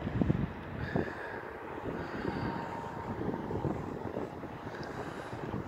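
A steady, rumbling roar of an airplane passes overhead, broad and continuous, with gusty wind buffeting the microphone.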